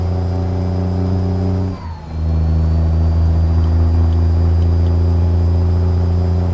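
A heavy truck's diesel engine drones loud and steady in the video game American Truck Simulator, dipping briefly during a manual gear shift before the revs climb and hold a deep, even rumble.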